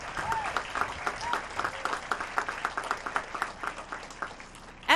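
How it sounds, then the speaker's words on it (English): Applause from a graduating class's audience at a high school graduation ceremony, honoring staff such as guards and cafeteria workers; a steady crowd clapping that swells briefly at the end, with some voices mixed in. "They get a round of applause."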